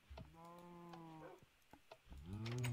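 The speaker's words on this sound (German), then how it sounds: "Ich habe eine Kuh gefunden." A Minecraft cow lets out a drawn-out in-game moo, followed by the start of a second one near the end, set against light background clicks.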